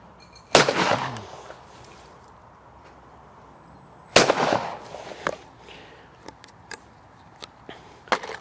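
Two loud, sharp shotgun blasts ring out a few seconds apart from a 1906 George Gibbs hammer gun with 32-inch barrels, each echoing away outdoors, followed by faint clicks and handling noises.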